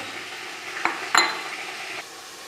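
Egg yolks being mixed with a spoon in a bowl for beignet dough, a steady soft scraping with a couple of sharper clinks of metal against the bowl, close and alone.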